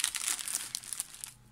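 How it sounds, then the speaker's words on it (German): Plastic bags used for storing cards crinkle and rustle as they are handled at a craft table, a crisp, close crackling that fades within about a second and a half. "Dann habe ich hier noch die Tüten drin für die Karten."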